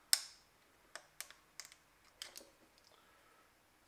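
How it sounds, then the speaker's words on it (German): Small electrical connector unplugged from the engine of a Mazda MX5 NA during cylinder head removal; a handful of sharp, close plastic clicks and taps, widely spaced and fairly quiet. "einmal den kleinen Stecker hier abziehen."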